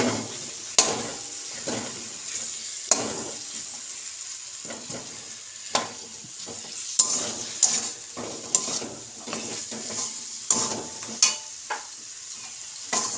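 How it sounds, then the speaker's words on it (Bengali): Spice masala with tomato is stir-fried in a pan, with a soft continuous sizzle under repeated sharp clinks and scrapes of a spatula against metal in an irregular rhythm, close by. "মশলাটা আমি 2-3 মিনিট ধরে ভালো করে কষিয়ে নেব।"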